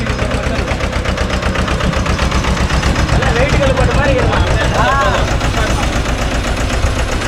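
A Mahindra 265 DI tractor engine runs steadily and loud throughout, a dense continuous mechanical drone with faint higher tones rising briefly over it, working a 36-blade rotavator.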